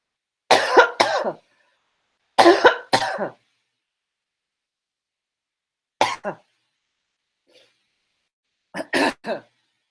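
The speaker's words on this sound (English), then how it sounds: "I didn't want to cough on you on the broadcast." Several loud, close coughs come in short clusters of two or three, with silent pauses between them.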